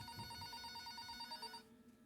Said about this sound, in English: the phone on the counter rang.